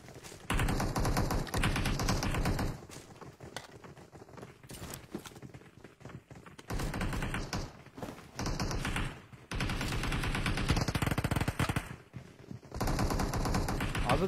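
Long bursts of rapid automatic submachine gun fire in PUBG Mobile, loud and close, broken by short pauses, with quieter stretches between volleys and faint talk underneath.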